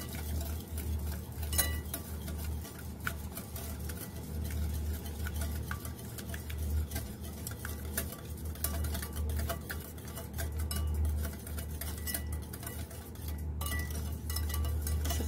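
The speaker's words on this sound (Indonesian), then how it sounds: "Kemudian kita kocok menggunakan garpu, sendok atau balon wis ya." Rapid, steady clinking and scraping of a fork whisking martabak manis batter in a bowl, quiet and continuous with occasional sharper taps.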